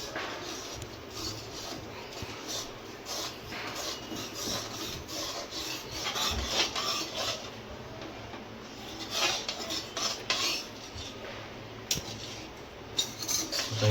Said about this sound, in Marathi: थोडं ढवळून घ्यायचं.